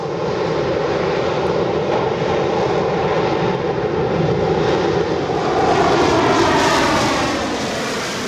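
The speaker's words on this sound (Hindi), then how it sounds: "MiG-21 bison." MiG-21 Bison fighter jet of the Indian Air Force, a loud, continuous engine roar with a dense rumbling body and a hissing top, holding steady and swelling slightly as the aircraft passes.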